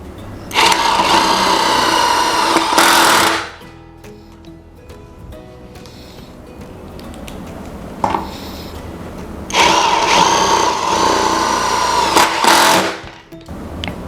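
A Mollar CIDR20351 20V brushless cordless impact driver drives a metal screw in two loud bursts of rapid rattling hammering, separated by a quieter stretch of handling noise, with no talk.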